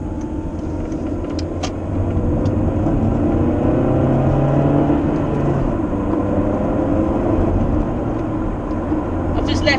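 A Toyota Avensis SR accelerates hard with a rising engine drone and road roar heard from inside the car, loud and continuous, with a voice over it.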